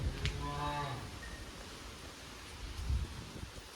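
A cow moos in a long, loud low call near the start, heard outdoors during a family visit in Manchar, with rustling and handling noise continuing after the call.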